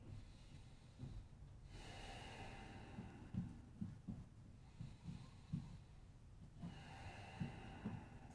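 Slow, deep breaths during a power-flow yoga session, each long inhale and exhale audible and close, repeating steadily with soft rhythmic pulses underneath and no talking.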